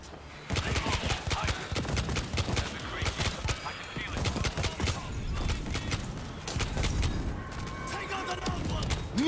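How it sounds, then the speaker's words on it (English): Mortar fire and heavy gunfire in the zombie shooter World War Z: Aftermath, dense bursts of shots and booms going on nearly continuously, with voices talking over the battle. "Mortar ready to fire!"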